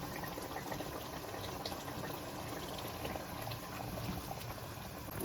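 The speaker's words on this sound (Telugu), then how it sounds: "మసాలాలో మంచిగా ఫిష్ ముక్కలు ఉడుకుతూ ఉన్నాయండి" Fish pieces simmering in a spiced curry gravy in a covered pot give a soft, steady bubbling and hissing, faint and continuous throughout with no speech.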